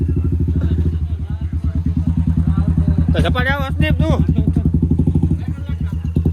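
A Royal Enfield Bullet motorcycle engine idles close by with a loud, steady, low thumping beat. A voice speaks over it partway through.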